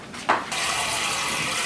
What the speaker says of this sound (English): We're going to pour this syrupy water into the ice.